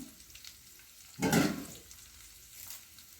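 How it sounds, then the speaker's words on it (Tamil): Peeled whole garlic cloves drop into hot oil for a Chettinad-style bitter gourd curry, setting off one sudden loud sizzle that quickly settles into a softer, steady frying hiss. "முழு பூண்டு உரித்து வச்சுருக்கேன் அதையே நம்ம அதில் போட்டுருவோம்"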